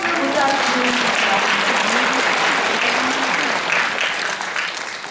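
Audience at a Gyeongbuk youth counseling volunteer convention claps for the vice governor, a dense burst of applause held steady with faint voices mixed in, then tapering slightly at the end.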